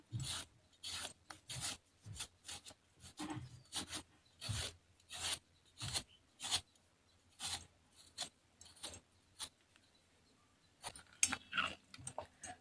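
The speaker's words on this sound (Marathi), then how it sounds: "आता या किसणीच्या साह्याने त्याचा किस तयार करून घ्यायचा आहे" A peeled potato is grated on a hand grater for a fasting-day chivda recipe. The strokes come as quick, close raspy scrapes in an uneven rhythm, with short pauses between runs and no speech.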